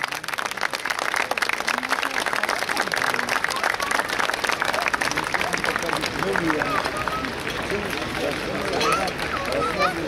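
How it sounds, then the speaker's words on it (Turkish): An audience applauds to welcome chamber staff into a general assembly hall, steady crowd clapping sustained for about ten seconds amid background chatter and voices. "Onları buraya davet ediyoruz alkışlarınızla."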